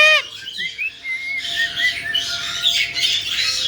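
A pet bird gives loud, harsh squawks close by, one sharp call first and then a longer raspy stretch of screeching, with no talking.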